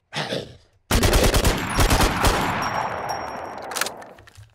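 Gunfire in the video game Aftermath: a loud, close burst of rapid automatic shots rings out for several seconds and then tapers off, after a short quieter sound and a moment of silence.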